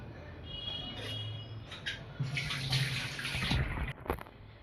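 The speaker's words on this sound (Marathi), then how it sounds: "आता हे बघा मी ह्याच्यामध्ये पाणी घालून घेणार आहे." Water is poured into a pot of dal and spinach with chopped tomato, a steady splashing pour that runs for a few seconds, close and moderately loud, with a brief clatter near the end.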